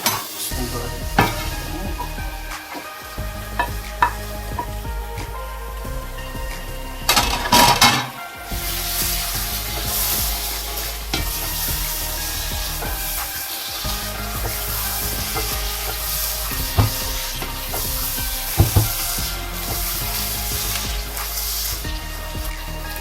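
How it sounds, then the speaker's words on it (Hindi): Spices and tomato fry in a pan for Pakistani-style liver, a dense steady sizzle with scattered spoon scrapes and a brief louder clatter of metal partway through, close and fairly loud. "मसाले अच्छी तरह भून रहे हैं। इसमें टमाटर डाल देंगे।"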